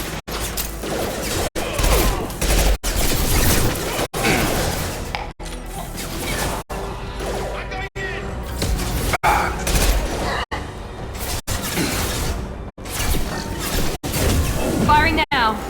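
Mass Effect 2 combat brings bursts of gunfire and crashing impacts in a steady rhythm of sharp hits, loud and close, with game voices talking over them.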